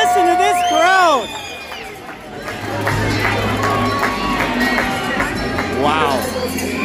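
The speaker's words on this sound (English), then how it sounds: "Listen to this crowd." The arena crowd roars at an Eastern Ontario senior hockey playoff game between Smiths Falls Rideaus and Deseronto Bulldogs. The sustained cheering and chatter carry under a commentator's voice, with shrill whistles rising over it.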